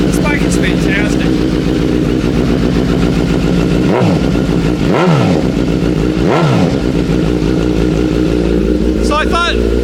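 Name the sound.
Suzuki Katana motorcycle engine with full exhaust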